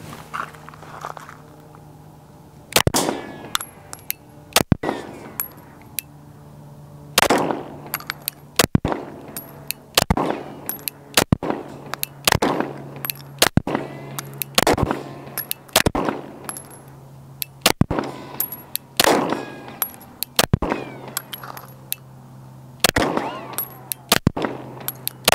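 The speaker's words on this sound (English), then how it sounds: "we're gonna take our first shots at the Infinity Defense Gen 2 Infinity Target." Gunshots strike an Infinity Defense Gen 2 Infinity Target in a rapid, fairly regular string of sharp, loud reports, each with a quick metallic ring, over a steady low hum.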